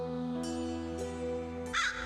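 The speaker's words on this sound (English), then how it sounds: "An obnoxious crow caws behind you insistently." An insistent crow caws repeatedly in a close, loud sound effect, with harsh calls layered over a sustained background tone.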